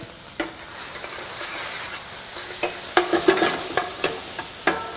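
Shrimp skewers sizzle steadily on a grill, a continuous crackling hiss broken by sharp ticks and pops scattered through the clip, with no one speaking.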